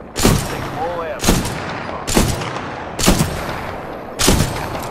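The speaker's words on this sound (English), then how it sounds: "that's me trying to show off my cool sniping skills" Titanfall 2 sniper rifle fired five times at roughly one-second intervals, each shot a sharp, loud crack with a long ringing tail, the rhythm steady and deliberate.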